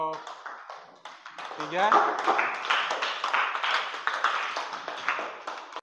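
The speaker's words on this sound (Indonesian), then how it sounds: "Kita berikan aplaus untuk kelompok" A classroom group claps for group 3, a dense ragged burst of applause from many hands that continues steadily after a brief spoken line.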